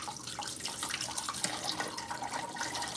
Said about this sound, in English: I'm gonna rinse my beans.